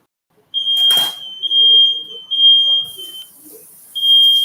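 A smoke alarm sounds in a kitchen during cooking of chicken and coconut veggie rice, giving loud sustained high-pitched beeps in several long bursts with short gaps, plus a brief clatter near the start.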